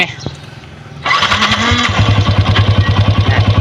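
Yamaha Exciter 150 motorcycle engine with a repaired engine noise fault and stiff wheel, firing up after a quiet moment of talk and settling into a loud, near, steadily pulsing idle.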